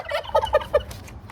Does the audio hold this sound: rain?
no